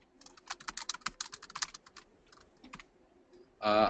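Typing on a computer keyboard as a text description is entered, a close run of crisp rapid key clicks that thins out and stops, followed by a short burst of a louder sound at the end.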